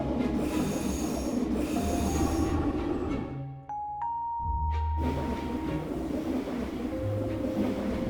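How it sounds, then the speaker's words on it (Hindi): A train pulls into a railway station bound for Goa, with wheels squealing on the rails, a rumbling low roar and a brief hiss and tonal squeal in the middle as it slows. "इतने में उनकी ट्रेन वहां पर आ जाती है।"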